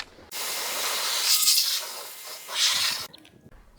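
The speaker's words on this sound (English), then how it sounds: "now we're just gonna rinse off so I can show you guys what it does" Water sprays over a car being rinsed after a wash with wheel cleaner, a close, steady hissing gush that swells twice as the stream sweeps across, then cuts off abruptly near the end.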